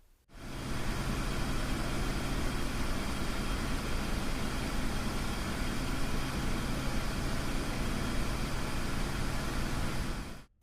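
A MASH POA bus on the road, heard from its own dashcam as a steady, loud broadband engine and road roar that barely changes in level from start to finish, with no voice.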